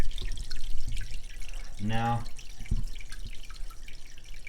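Water from a Marineland 220 canister filter splashes and trickles into an aquarium in a brief, bubbly gurgle under room noise, with a voice speaking.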